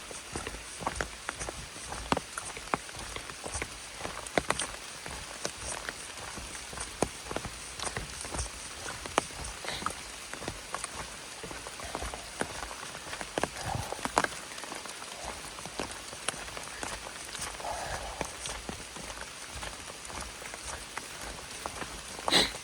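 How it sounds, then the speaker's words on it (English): Steady rain pattering on the Appalachian Trail during a thru-hike, heavy enough to count as harder rain, with close drops tapping a surface and a few footsteps mixed in; no talking. "It's raining harder."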